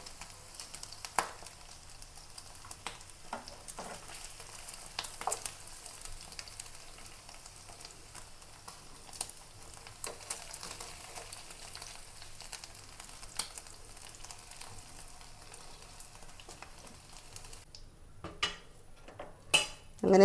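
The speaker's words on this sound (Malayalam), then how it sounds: "അങ്ങനെ ബീഫെല്ലാം വറുത്ത് കോരി മാറ്റിയിട്ടോ" Beef pieces fry in oil and are scooped out of the pan, a soft steady sizzle punctuated by frequent sharp clinks and scrapes of a metal spoon against the pan, with no talking.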